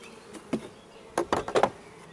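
Short bursts of honeybee buzzing at a hive, a couple of faint passes and then a louder cluster of buzzes close by, with no talking.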